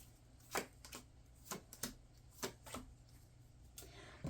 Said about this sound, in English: Let's pull your 3 February cards here.